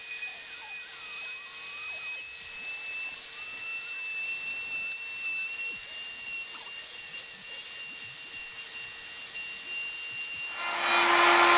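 Wood being shaved down on a Stew Mac Mini T guitar kit, a continuous dry rubbing and scraping close to the microphone with a steady high hiss, growing louder at the very end.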